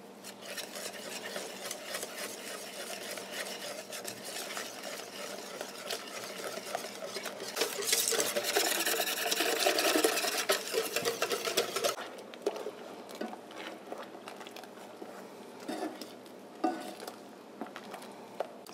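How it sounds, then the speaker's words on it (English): A whisk stirring cream into cocoa and cornstarch for chocolate pudding, steady rapid scraping and rattling against the pot that builds louder in the middle, then settles to a quieter stir. "I do need to whisk this cream into our cocoa and cornstarch"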